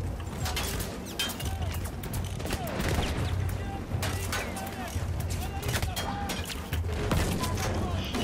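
Gunfire rattles in a Battlefield 1 campaign mission, with dense bursts of shots, crashes and mechanical clatter sounding at moderate loudness throughout.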